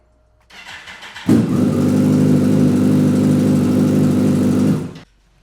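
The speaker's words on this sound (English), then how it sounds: "I can guarantee you it starts right up." A motorcycle engine cranks briefly with a starter whir, then catches and settles into a loud, steady close idle for several seconds before cutting off abruptly.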